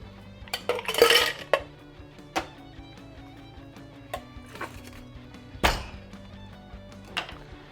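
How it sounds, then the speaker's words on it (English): Ice goes into the large metal tin of a cocktail shaker while a kombucha and Irish whiskey mule is being built: several sharp, close clinks and knocks sound alone, with quieter rattles between them. "To the big tin, I'm gonna add some ice."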